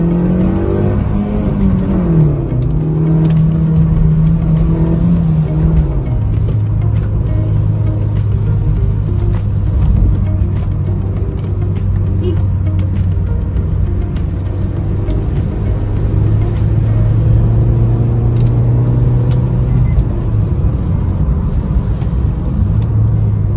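Loud, close engine drone of a car accelerating through the gears during a pickup test, steady revving with pitch rising and shifting over a continuous road rumble, no voices.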